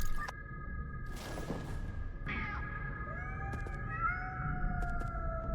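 Cats in the video game Nine Sols let out several strained, wavering meows over a low rumbling ambient drone, with sharp clinks and a tonal hum running underneath.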